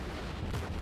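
Naval guns fire in the World of Warships video game, dull booming shots heard as low, muffled thuds over a constant rumbling background.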